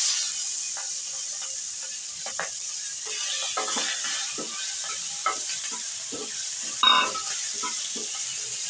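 Shrimp frying in a pan with steady sizzling and a few stirring scrapes, close and alone, while a Bengali kochu flower and shrimp dish is cooked.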